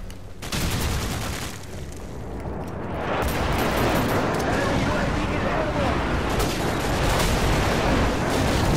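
Heavy bombardment in Call of Duty: a sharp blast followed by a sustained, loud roar of overlapping explosions and rumbling impacts that fills the whole stretch without letting up.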